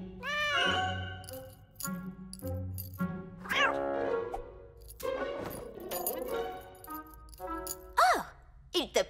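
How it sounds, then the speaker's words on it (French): A cartoon cat meows several times, rising and falling in pitch, in between bits of animated character dialogue and small clinking effects. "C'est encore ce chat!"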